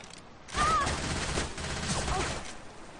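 A short flurry of gunfire in a multiplayer shooter match, several rapid shots clustered together and fairly close, with a voice talking over it.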